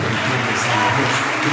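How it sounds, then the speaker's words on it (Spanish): Congregation applauding the Lord during a sermon, with dense, continuous clapping from many hands forming a steady, fairly loud wash throughout. "Vamos a dar un fuerte aplauso al Señor"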